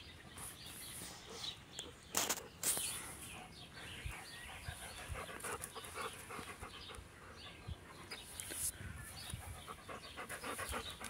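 A dog pants loudly and rapidly in a quick, breathy rhythm, close by, with a few sharp short noises and faint bird calls in the background and no talking.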